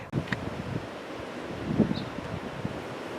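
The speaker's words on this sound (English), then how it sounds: "we are having a bit of a windy day" Steady wind rushes past outdoors, a soft broadband roar with faint rustling and a brief stronger gust in the middle.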